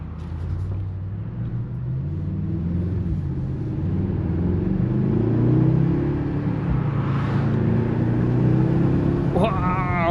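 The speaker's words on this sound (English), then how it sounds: "you can tell this is a very powerful engine, the handcrafted V8" Handcrafted V8 of a 2025 Mercedes-AMG GLS 63 SUV, 603 hp, rumbles deep and steady with a swelling rev midway, partly under a voice talking.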